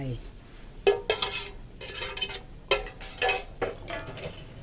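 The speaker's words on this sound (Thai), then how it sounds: "แล้วยายก็จะใส่ถั่วลงไป" Beans tipped into a pot for a sweet Thai bean paste, several bursts of clattering, rattling pours and utensil clinks against the pot in quick succession, close and fairly loud.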